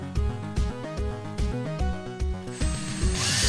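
Power drill boring into a wall near a plug socket while putting up shelves, a loud steady whine with rhythmic ratcheting pulses that rises to a brighter, harsher grind in the final second.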